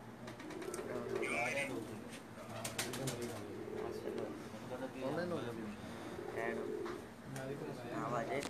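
Pigeons coo repeatedly on a rooftop in Jeddah, their soft throaty calls rising and falling close by while people talk in the background.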